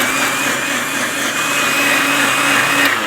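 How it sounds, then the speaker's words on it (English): A Super Blend blender whirring through ripe avocado juice, a loud, even motor drone with a steady high whine that holds for the whole stretch without a pause. "5 seconds with a ripe avocado. It's all it needs with a beautiful blender such as the Super Blend."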